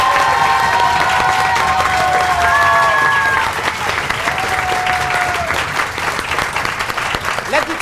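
A studio audience at a contest show applauds and cheers a contestant for the applause meter, the steady clapping running throughout while a sustained tone or whistle sounds over it.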